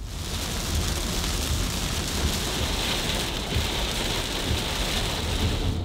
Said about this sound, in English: we ran into a wall of thick clouds and bursts of rain